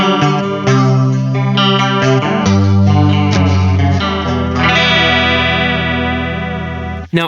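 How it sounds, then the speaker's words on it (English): Guitar run through an effects pedal with its EQ turned up to cut low end and boost highs, giving a lo-fi, chorus-laden, distorted tone; sustained chords and notes ring out loud and continuous with no talking. "if we turn the EQ knob up past noon, we're actually starting to roll off low end to emphasize more high end, maybe get kind of like a more lo-fi sound"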